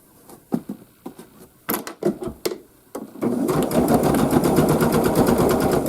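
A sewing machine stitches binding onto a floral zig zag quilt, first in short separate bursts, then settling into a long, loud, steady run of fast rhythmic stitching close up.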